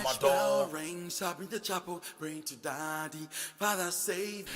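Sung vocals with a thick, doubled, slightly wavering chorus effect, the voice sounding layered as it rises and falls through a short phrase.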